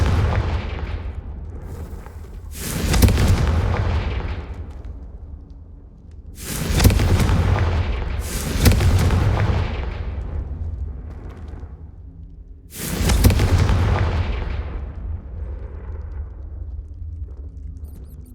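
Repeated Confringo blasting-spell explosions in the video game Hogwarts Legacy, set in a Slytherin dungeon: three or four loud booming bursts spaced a few seconds apart, each with a sharp crack and a long rumbling decay, with no talking.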